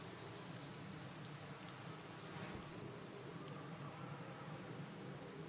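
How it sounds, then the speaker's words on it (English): Steady rain pours in a Minecraft Cobblemon world during a storm, a dense even hiss with a faint low rumble of thunder, with no talk. "And that's a big ass storm."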